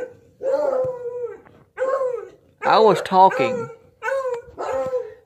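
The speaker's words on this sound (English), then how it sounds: "Damn dogs." Several dogs howl and bark outdoors near a shop during a homemade snow plow build, loud drawn-out howls with yelping bursts in five bouts and short gaps, a man's brief words heard among them.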